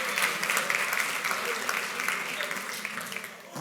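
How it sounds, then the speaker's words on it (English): An audience claps in steady applause at a tech conference session as volunteers are called up onto the stage, a dense wash of hands lasting throughout before tapering off at the end. "Give a nice round of applause."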